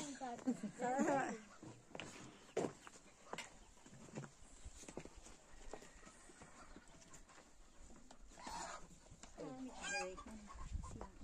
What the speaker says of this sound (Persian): مرغ